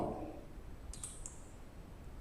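A few quick, soft clicks of computer keyboard keys pressed for a shortcut, close and isolated against a faint room hiss.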